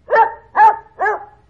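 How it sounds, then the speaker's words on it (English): A dog barks three times in a steady, evenly spaced rhythm, each bark clear and close with no other sound around it. "It's a dog."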